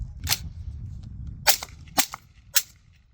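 Four sharp gunshots from a Bear Creek Arsenal rifle, firing on steel ammunition, crack out at uneven intervals over a low rumbling outdoor background, each short and loud.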